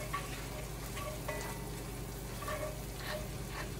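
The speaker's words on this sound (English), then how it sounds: "We're gonna do the minced garlic. Stir that all into the butter." Minced garlic being stirred in melted butter with shallots gives a faint, even sizzle with light scattered crackles, steady and somewhat distant, with no voices.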